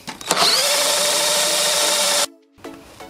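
A power drill whines steadily for about two seconds while drilling into wood for a cup hinge, then stops abruptly; after a short pause it briefly spins up again.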